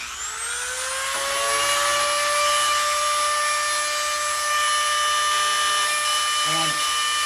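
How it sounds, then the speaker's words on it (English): A Dremel rotary tool fitted with a carbide burr spins up to a loud, steady high-pitched whine while it sharpens a bandsaw blade, running continuously close by, with brief contact noises near the end. "I'll try not to talk over the Dremel"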